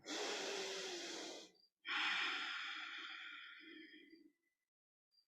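Two deep clearing breaths during a gentle yoga neck-stretch flow: a long audible inhale, then a slow, breathy exhale that trails off softly, close and quiet with no talking.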